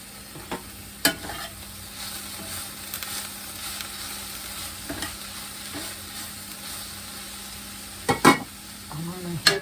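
A stir fry sizzles steadily in a hot pan, with occasional stirring scrapes and utensil clinks breaking through the constant frying hiss.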